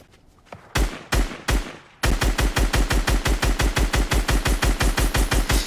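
Gunfire in the video game Fortnite: a few separate loud shots, then a rapid, steady burst of evenly spaced shots close up, with no voices over it.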